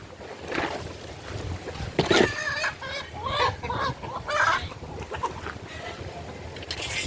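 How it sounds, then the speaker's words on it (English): Chickens cluck and a rooster crows in a backyard garden, harmonic calls rising repeatedly over a steady outdoor background, fairly close and moderately loud. "Naughty roosters."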